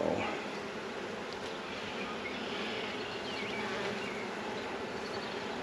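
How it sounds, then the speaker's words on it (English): Honeybees from a recently hived swarm packed on hive frames, making a dense, continuous buzzing drone heard up close and steady throughout, with no speech. "these frames are packed with bees"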